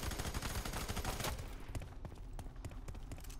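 Weapon fire in the shooter video game F.E.A.R. 3, from a grenade launcher or shotgun: a loud rapid burst of repeated shots for about a second, then scattered single shots and impacts fading under the game's din.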